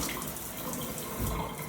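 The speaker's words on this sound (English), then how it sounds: "Turn it all the way on. And now we got nice hot water." Hot water pours steadily from a Delta shower turned all the way on, a continuous broad rushing hiss up close with no voices.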